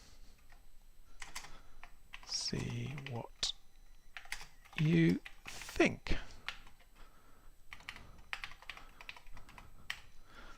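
Keys clack in irregular bursts on an Intellivision keyboard component, close and moderately loud, mixed with a person speaking briefly between the typing.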